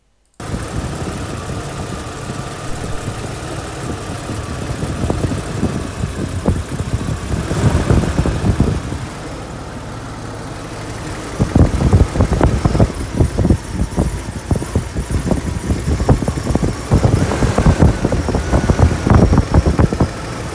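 A BMW 850 engine idles with one six-cylinder bank running, giving a steady, close mechanical rumble with a rough, knocking texture and occasional clatter, continuous without speech.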